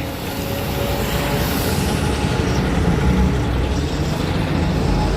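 A GSRTC bus pulls onto a platform at the Rajkot bus stand on a busy festival morning. Its engine gives a steady, close, heavy rumble with road noise that holds for the whole stretch, and no one speaks.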